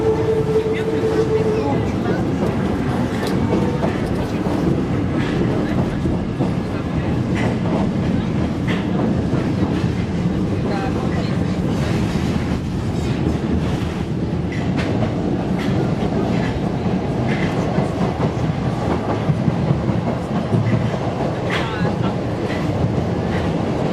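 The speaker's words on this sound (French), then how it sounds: "nous sommes partis pour faire le voyage sur la ligne la plus courte du métro parisien." Old Paris metro train running on Line 3 bis, the shortest line, heard from inside a crowded carriage with a loud continuous rumble, rattling and rhythmic clacking of wheels, and a brief tone near the start.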